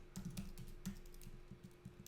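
Light, quick clicks of typing on a computer keyboard, tapping in an uneven rhythm at close range in a quiet room.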